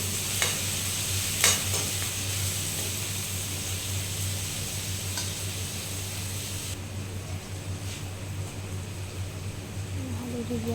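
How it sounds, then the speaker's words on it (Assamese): Ginger garlic paste with a little cumin frying in a pan, giving a steady close sizzle with occasional scraping stirs and a constant low background hum throughout. "অকণমান ভাজি ল'ম আদা নহৰুখিনি।"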